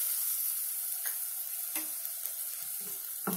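Chopped tomato sizzles steadily in hot oil in a pan, a continuous close frying hiss with a few soft stirring scrapes breaking through near the end.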